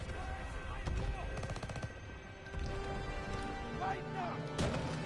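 Machine gun fire in a Call of Duty WW2 battle at the Rhine, rapid rattling bursts with scattered gunshots in the background, loud and dense, broken by short pauses, with voices shouting over the combat.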